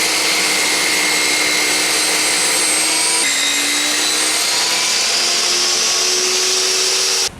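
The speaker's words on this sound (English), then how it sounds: "Just gonna shave off the rough edge of the walnut." A power tool shaves the rough edge off a walnut board, a loud steady whine with shifting tonal pitch running continuously, then cutting off at the end.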